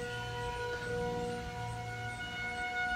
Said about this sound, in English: That's what a tornado siren sounds like